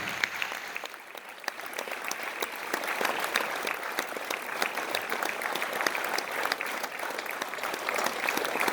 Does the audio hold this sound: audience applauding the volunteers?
yes